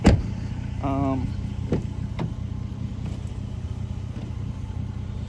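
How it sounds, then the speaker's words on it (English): A 2017 Toyota Tacoma with a straight-piped V6 exhaust idles with a steady low rumble, and a brief tonal voice-like sound rises near the start. "A lot of people hate on a straight pipe V6, but who cares?"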